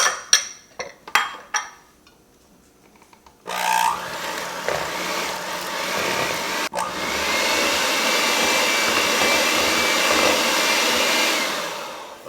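Eggs and grated Parmesan are stirred into a doughless pizza batter. A few sharp clinks and taps come first, then a steady, loud whirring drone of an electric mixer runs continuously through the rest.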